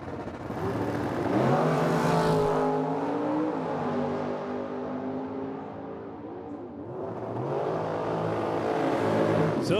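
A 2016 COPO Camaro and a dragster at a drag strip, with loud engines revving and roaring. The roar swells, eases off mid-way, then climbs again. No one speaks.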